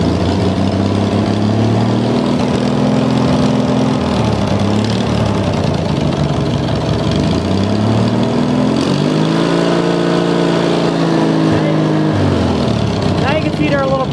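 A race mower's small engine runs close and loud, its pitch rising and falling as the throttle is opened up for a couple of swelling revs before easing back.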